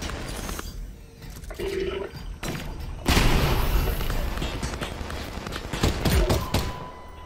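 Grenade launcher firing in Half-Life: Alyx, a sudden loud boom at mid-clip opening into a sustained roaring blast with rumbling debris, after quieter game ambience, with a later smaller thump.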